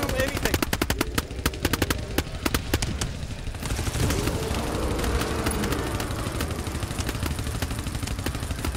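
Rapid bursts of automatic gunfire in a video game, loud and close, with dense clattering volleys in the first seconds and then a steadier roar of continued shooting and chaotic action.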